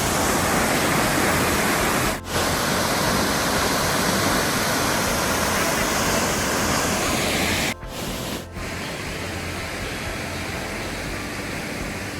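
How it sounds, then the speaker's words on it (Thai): Water pours down Haew Narok waterfall in Khao Yai steadily in a constant, full rushing roar, broken only by a couple of brief dips, with no voices. "น้ำไหลจากข้างบนนะครับ มาทางด้านล่างตรงนี้นะ"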